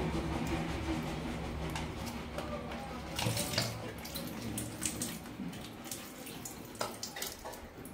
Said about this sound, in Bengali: ছাঁকনাতে করে জলটা আমি ঝরিয়ে নিচ্ছি